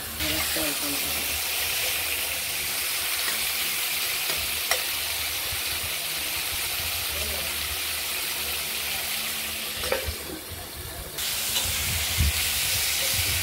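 Ridge gourd pieces fry and release water in a pan for a poppy-seed dish, making a loud, continuous steamy hiss with occasional scrapes and knocks of stirring.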